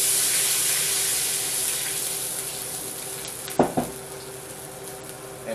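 Water poured into a hot pan holding a little bacon grease sizzles in a steady broad hiss for several seconds, with a couple of brief clatters near the end.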